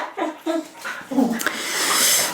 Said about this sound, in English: What you hear is my dogs